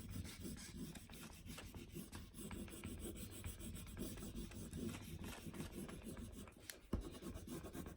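A crayon in yellow orange is rubbed back and forth on paper, filling in an area with steady, close, soft raspy strokes that continue without pause and carry no speech.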